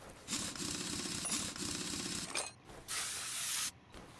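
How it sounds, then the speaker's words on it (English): Spray paint hissing onto a car wheel in the game Car Mechanic Simulator 2021, two steady bursts of close hiss, the first about two seconds long, a short gap, then a second shorter burst. "Spray, spray, spray."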